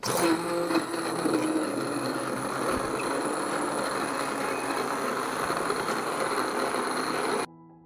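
A kitchen blender grinding softened tomatoes, a steady loud motor whir with a churning rumble that runs evenly for several seconds before cutting off abruptly near the end.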